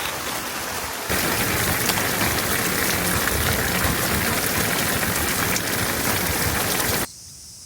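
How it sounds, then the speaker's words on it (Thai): A heavy downpour falls on a vegetable garden in Japan, beginning suddenly as a loud, steady rushing hiss of rain that cuts off abruptly after about six seconds. "และแล้วฝนก็ถล่มลงมาอย่างสวยงามนะครับ"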